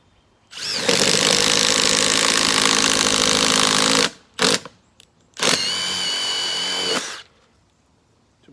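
A Milwaukee brushless impact driver bores with a 1-inch spade bit, loud and close, in two long bursts of steady whirring drive with a brief blip between, then stops.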